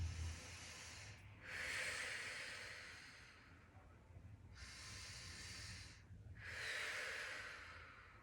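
Three deep, hissing breaths drawn and released in a slow, even rhythm, close and quiet, with brief pauses between them while holding a yoga plank pose.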